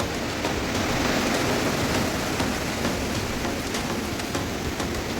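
Rain falls at a hilltop resort in Attappadi, a steady, even hiss of drops hitting surfaces that holds constant and moderately loud with no talk.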